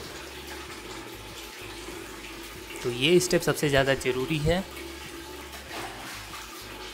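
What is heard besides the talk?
pouring water over air cooler pads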